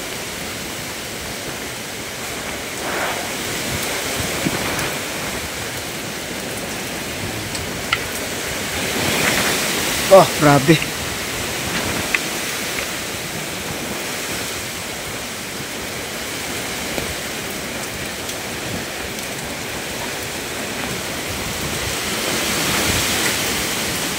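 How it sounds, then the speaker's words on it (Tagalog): Typhoon wind and rain under Signal No. 1 batter a house in the mountains, far from the sea: a steady, loud roaring wash of gusts and downpour that swells briefly midway, with a voice giving a short exclamation. "Umpisa na yung bagyo mga kabari. Signal number 1 na to sa amin."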